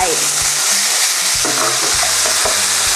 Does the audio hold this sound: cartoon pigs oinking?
no